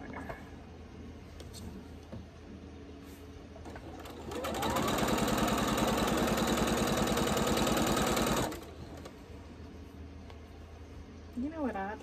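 A sewing machine stitches quilt pieces corner to corner, a steady fast mechanical whir running for about four seconds at close range, with quiet room sounds and a brief voice before and after.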